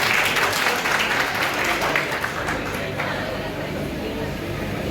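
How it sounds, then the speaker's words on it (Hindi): A crowd at a BJP political youth convention in Jammu claps steadily for several seconds, a dense wash of applause with some voices and murmur mixed in. "जिनको समझ गया है वो ताली बजा दो एक बार"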